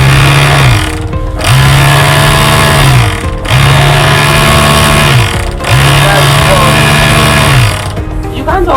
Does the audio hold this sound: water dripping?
no